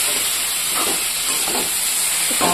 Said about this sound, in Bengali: আর এদিকে ইলিশ মাছটা ভাজার জন্য বসিয়ে দিয়েছি